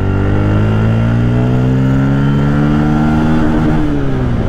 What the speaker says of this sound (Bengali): এখনও এক্সজস্ট থেকে যে লাউড আওয়াজটা বের হচ্ছে, আই থিঙ্ক আপনারাও একটু একটু বুঝতে পারতেছেন।